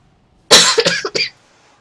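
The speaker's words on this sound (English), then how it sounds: "As I cough." A single short cough burst, close and fairly loud, breaks into a couple of quick follow-up hacks before fading to near silence.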